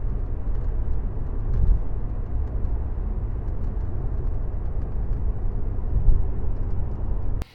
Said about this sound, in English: road noise in the car.